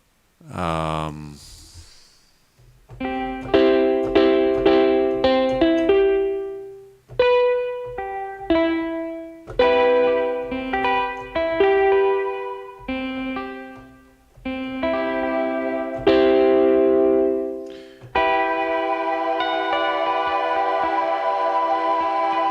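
A plucked or picked instrument from the AURUS:VEILS library plays a melodic phrase drenched in reverb and delay, with echoing repeats trailing each note and a long washy sustain near the end.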